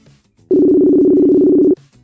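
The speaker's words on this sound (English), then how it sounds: "We have ringing." A phone call's ringing tone sounds over a tablet speaker, one loud, steady buzzing tone lasting a little over a second, with quiet background noise before and after.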